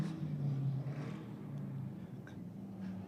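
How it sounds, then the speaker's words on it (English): A car with a loud new exhaust setup rumbles steadily at a race event, its low drone heard from a moderate distance beneath a noisy outdoor background. "he did say to me this new exhaust setup, the car is a lot louder."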